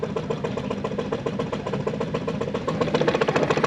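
A boat engine idles with a steady, knocking mid-pitched chug as the boat comes in to dock, running close and even and growing slightly louder toward the end.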